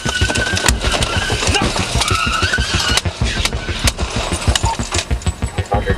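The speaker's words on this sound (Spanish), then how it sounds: "El conductor dio marcha atrás e intentó escapar." A stolen Hyundai SUV reversing hard to escape police, its engine revving loudly up close amid rough tire noise and thumping impacts, with occasional sharp bangs.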